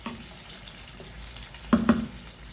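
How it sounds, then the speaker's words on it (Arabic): Chicken liver frying in a small amount of hot oil in a pan gives a faint, steady sizzle, broken by a couple of quick clinks of a utensil against the pan. "ونخلوها تتقلى"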